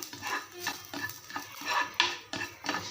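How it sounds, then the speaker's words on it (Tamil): Crushed garlic sautéing in oil in a pan while being stirred, with repeated scraping strokes of a utensil and a faint sizzle underneath, close and steady with no talking. "பூண்டு தட்டி இதில் போட்டு அந்த பூண்டில் உள்ள அந்த ஈரணைப்பு போகிற வரைக்கும் இந்த எண்ணெயில் வதக்கிக்குங்க"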